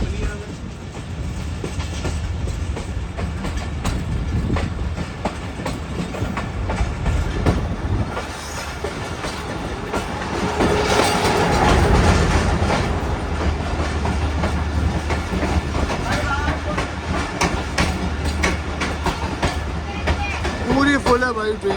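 The Mohenjo-daro passenger train, hauled by a GMU 15 locomotive, rolls along the rails with a continuous loud rumble and clatter that swells midway, with a faint squeal near the end.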